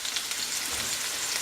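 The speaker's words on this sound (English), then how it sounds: "You want to hear that sizzle of your pan when you put your pork chops in." Pork chops sizzle in a hot pan with a steady, close, crackling hiss of frying fat that stays even throughout, with no voices over it.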